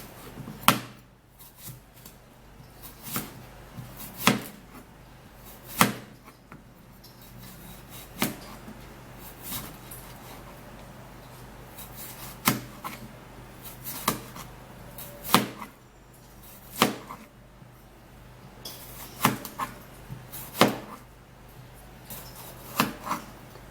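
A knife chops through a whole cucumber on a board, sharp distinct knocks at irregular intervals, a dozen or more cuts, close and clear against a quiet room.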